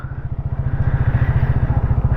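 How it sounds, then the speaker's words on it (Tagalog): A motorcycle engine throbs close by with a fast, pulsing low rumble that swells briefly as it revs on a road, loud and alone without voices. "Another gas na naman ng motor."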